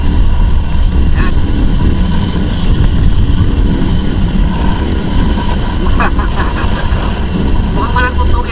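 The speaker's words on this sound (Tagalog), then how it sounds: "Marinig mo yung makina kung umuugong yung tambucho kung konti ang ingay." A stock motorcycle exhaust drones steadily with engine hum while riding, a continuous loud rumble with wind noise running throughout.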